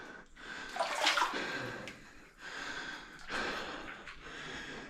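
Someone wades through deep water in a flooded goldmine tunnel in New Zealand, sloshing and splashing in surges close by, with heavy breathing between the bursts.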